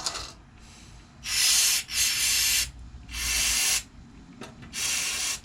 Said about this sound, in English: spray carb cleaner, and we're gonna go through and we're gonna spray all these ports down real good